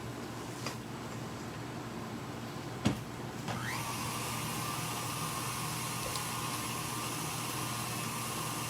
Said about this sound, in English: I'm gonna stop this mixer for a second, and I'm gonna scrape the sides